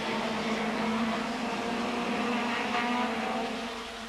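Non-turbo and turbo Ford Sierra touring cars racing in the 1991 British Touring Car Championship at Silverstone, a steady loud engine drone from several cars passing, fading slightly at the end.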